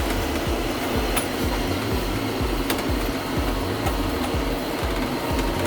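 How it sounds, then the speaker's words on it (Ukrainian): A John Deere 6310 tractor of 100 hp drives in fourth gear at high range, a steady rumbling engine drone with a regular rhythmic beat, heard from inside the cab with a few faint clicks. "Ось так рухається трактор."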